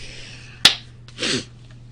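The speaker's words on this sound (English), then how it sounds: "I started to clap into the microphone." A single sharp clap close to the microphone, followed shortly by a brief breathy rustle.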